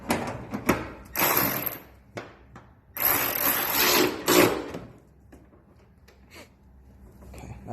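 A ratchet retightens a bolt on a Ford Mustang hood strut in two quick bursts of rapid close clicking, with a few knocks between them and quieter handling at the end.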